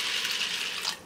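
Water splashes and swishes while sabudana tapioca pearls are washed for kheer, a short soft rush of running water alone, with no talk.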